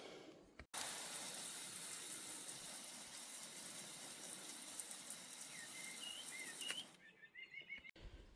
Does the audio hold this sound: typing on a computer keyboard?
no